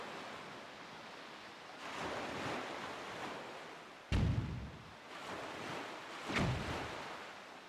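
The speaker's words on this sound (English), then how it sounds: "Listen to that wind" Wind blows across the open sea in The Legend of Zelda: The Wind Waker, a steady breathy rush that surges in slow gusts, with one sharp buffeting thump midway.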